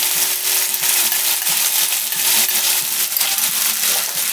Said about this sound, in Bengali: এবারে আমি এর মধ্যে মুসুর ডালটা দিয়ে দিচ্ছি